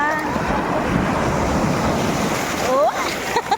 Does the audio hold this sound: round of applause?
no